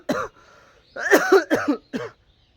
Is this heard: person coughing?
yes